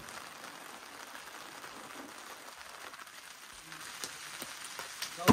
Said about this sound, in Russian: Долгожданный дождь за несколько недель.